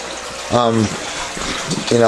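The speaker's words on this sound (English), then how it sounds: "These are my filter pumps that are running right now, that are filtering the water and aerating it." Filter pumps running in a backyard goldfish and minnow pond of over 200 gallons, a steady gushing, bubbling flow of aerated water close by, with a person talking over it.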